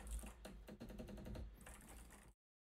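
Keys clicking on an 8BitDo mechanical keyboard, a rapid run of close, crisp key presses that goes on steadily for about two seconds and then stops, with no talking.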